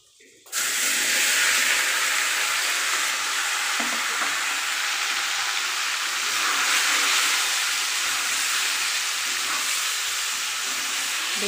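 Tangra fish rubbed with salt and turmeric dropped into hot oil, bursting into a loud, steady, broadband sizzle that holds for over ten seconds with slight shifts in intensity.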